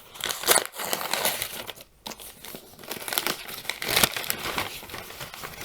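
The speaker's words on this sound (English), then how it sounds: "And this time, we even have wrapping paper." Wrapping paper crinkles and crumples continuously up close as a box is unwrapped, with bursts of louder rustling and brief pauses, and no talking.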